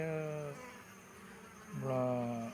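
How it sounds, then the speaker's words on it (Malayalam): Honeybees fly out of a hive, their faint buzzing mixed with two short tonal hums near the start and end, set against a quiet outdoor background. "ഇപ്പോഴും ഈച്ചകൾ വെളിയിലേക്ക് പോകുന്നത് കാണാം"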